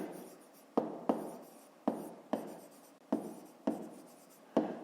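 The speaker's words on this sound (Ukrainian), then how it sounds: "Пишемо в дужках чого відстані." A pen writes on paper in short, sharp strokes, about eight quick scratches in succession, close and quiet with no talk.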